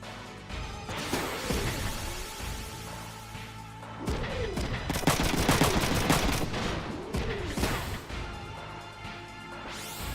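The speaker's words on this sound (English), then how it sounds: "I can go here and shoot this guy" Video game gunfire from Front Mission 3 as an enemy is shot: repeated loud bursts of automatic fire and heavy impact crashes, clustered over several seconds with a swelling, booming rumble.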